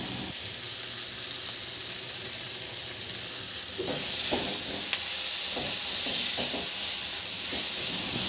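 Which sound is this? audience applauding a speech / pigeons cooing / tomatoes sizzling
tomatoes sizzling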